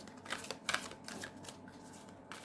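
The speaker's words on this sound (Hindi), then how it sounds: "पहले एक बार से हम ड्रॉ कर देते हैं कार्ड्स को" Tarot cards shuffled and drawn by hand, giving soft papery riffles and flicks in short irregular bursts, close and quiet with no talking.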